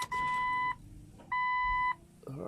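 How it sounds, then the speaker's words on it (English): Loud electronic alarm from a Jeep Cherokee XJ being started after turbo wiring work, sounding as two long steady beeps with a pause between, followed by faint rustling. "Still got the annoying alarm."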